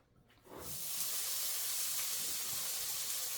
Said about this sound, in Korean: 그래서 나는 이 햄을 좀 바짝 볶아줄 거야.